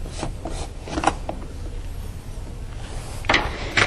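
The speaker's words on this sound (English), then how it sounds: "Now I'll open the lid up here." The lid of a Mini 2 padding press is lifted open, making close rubbing and knocking sounds, with a louder clack and scrape near the end.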